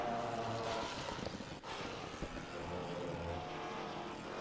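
A Porsche 935 GT4 race car engine in Assetto Corsa Competizione at the Nordschleife, a steady, fairly quiet engine drone with a brief dip, as if lifting off the throttle, before it resumes.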